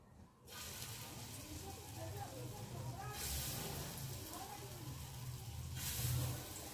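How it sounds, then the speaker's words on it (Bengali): Khesari dal fritters fry in hot oil with a steady, soft sizzle and bubbling hiss that swells gently at moments, fairly quiet and continuous. "তেলটা যেহেতু গরম হয়ে গেছে, এখন আমি ছোট ছোট করে বড়াগুলোকে ভেজে নিই।"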